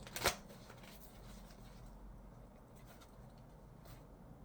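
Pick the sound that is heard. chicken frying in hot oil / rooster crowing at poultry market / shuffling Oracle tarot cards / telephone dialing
shuffling Oracle tarot cards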